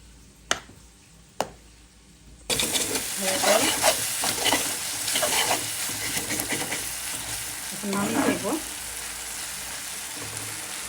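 Basmati rice pulao frying and being stirred in oil, with loud continuous sizzling and scraping stirs that start after a couple of quiet taps, close up and with no talk over it.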